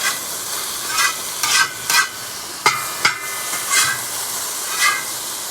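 Green beans sizzle in a ripping hot cowboy wok while being stir-fried, a steady close frying hiss punctuated by about ten sharp scraping stirs and tosses, with no talking.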